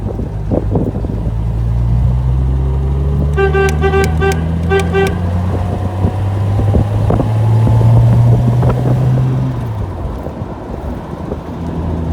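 A 1967 Jaguar 4.2-litre Series 1 Roadster on a road test on a brisk day: a close, loud engine drone rises and falls through revs, with wind buffeting and a short burst of repeated horn-like toots partway through.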